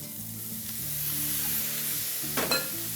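Vegetables with spices for an Indian vegetable stir fry sizzle in a pan under a faint low hum, ending with a louder burst of scraping and stirring near the end, close and without speech.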